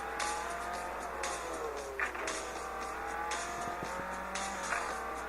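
In the mobile racing game Real Racing 3, race car engines rev and whine continuously, with rising and falling pitch as the cars shift through gears and a brief tire squeal. The game sound is steady and fairly loud, with no one talking.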